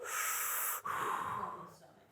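Forceful, breathy exhalations pushed out during a kettlebell breathing drill in a live coaching session, two sustained hissing breaths close to the mic with a brief catch between them, no talking.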